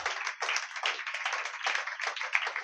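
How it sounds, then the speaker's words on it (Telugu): A church congregation claps in a fast, steady rhythm, many hands together in a continuous burst that stays at an even, moderately loud level throughout. "ఒకసారి చప్పట్లు కొట్టండి దేవునికి."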